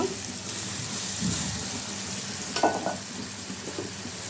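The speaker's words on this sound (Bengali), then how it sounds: "অল্প একটু জল দেব চিংড়ি মাছগুলো দিয়ে দিব" Shrimp and a splash of water going into a hot frying pan, a soft, steady sizzle with a few brief splashy bursts midway, fairly quiet and close.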